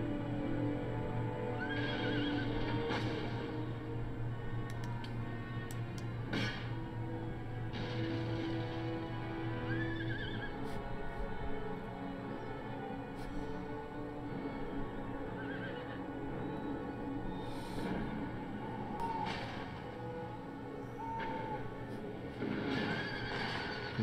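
Cavalry horses in the strategy game Empire: Total War neigh and whinny repeatedly over a dense battlefield din, with hoof clip-clops and steady low rumble throughout, no talk.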